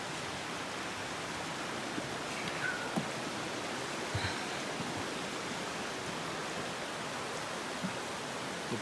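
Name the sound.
flowing creek near Long Creek Falls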